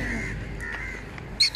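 A crow caws during an urban free-flight session with macaws and lovebirds outdoors, giving steady harsh calls against a noisy open-air background, with a sharp louder burst near the end.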